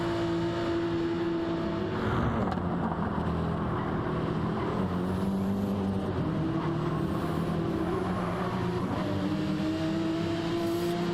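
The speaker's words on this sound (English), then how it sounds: "And this is going to be full throttle." A race car engine held at full throttle in a DTM sim racing game on the Dragon Trail circuit, a steady loud drone with rising and shifting pitch through gear changes across the whole stretch, with no voices.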